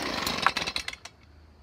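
A Stihl BG 55 leaf blower's small two-stroke engine, primed and on full choke, catches on a pull with a short run of loud, close, ragged firing pops that quickly die away.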